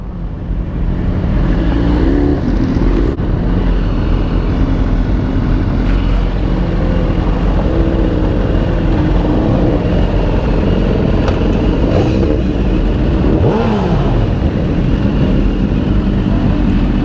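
A group of sport motorcycles, including a Hayabusa and a ZX14, rides along a highway, with loud continuous engine drone and wind roar and engine pitch rising and falling as the bikes accelerate.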